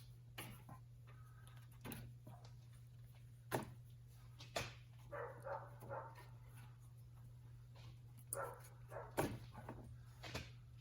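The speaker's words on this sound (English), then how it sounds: "Sorry about the dog barking." Scattered sharp barks from a dog some distance away, irregular and intermittent, over a steady low mechanical hum during work on a Ram 2500 front wheel bearing.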